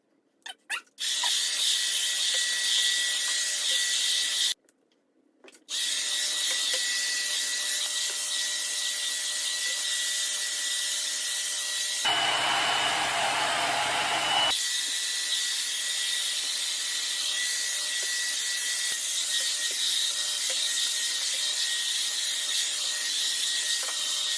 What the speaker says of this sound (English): It's a brush hair dryer and it just cuts my time in half